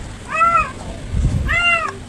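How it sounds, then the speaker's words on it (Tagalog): A cat meows twice, each a drawn-out, nasal call close by, separated by a short pause with low background rumble. "maingay yung alaga kong pusa"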